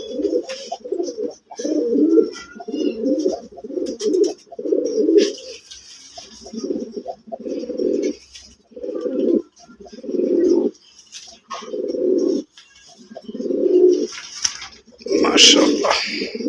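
A male pigeon with a white tail coos up close in a repeated rhythm of low, throaty bursts separated by short pauses, with a few faint background noises between them.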